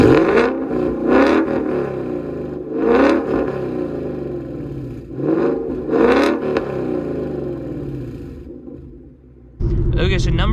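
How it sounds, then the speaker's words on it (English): A 2019 Ford Mustang GT V8 fitted with a Corsa Extreme exhaust, revving repeatedly in loud surging bursts with a deep rumbling idle between them, before a sudden louder, rougher roar near the end. "you have to listen to Corsa Extreme on my 2019 Mustang GT, and you just can't say no to that sound"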